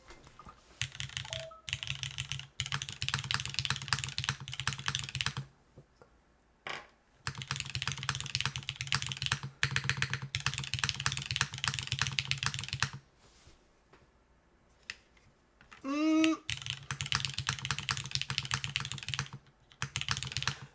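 Typing bursts on a Neo80 CU top-mount mechanical keyboard, steady clacking keystrokes in several runs separated by short pauses, close and moderately loud, with a brief tonal chirp near the end.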